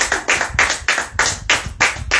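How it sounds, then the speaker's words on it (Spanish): A congregation clapping hands together as an offering to the Lord during a church service, a brisk, loud, even rhythm of about three claps per second with no talking. "¿Cuánto le dan una ofrenda de palmas al Señor?"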